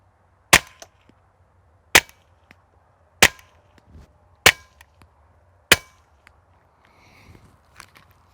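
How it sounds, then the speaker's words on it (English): .22 subsonic rounds fired from a rifle with a Dead Air Primal suppressor give five sharp, evenly spaced cracks about a second apart, each short and close with quiet gaps between. ".22 subs out of a rifle."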